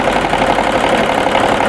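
Steady motorized hum of a sewing machine running continuously as it stitches binding onto a quilt, a constant mid-pitched whir with no pauses or voices.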